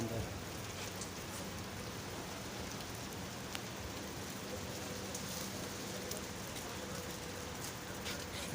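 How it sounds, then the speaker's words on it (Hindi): Steady rain pours down in the UAE on 5 March 2024, a continuous even hiss of falling drops with no clear gaps or voices, moderately loud throughout. "आज फिर बारिश हो रही है"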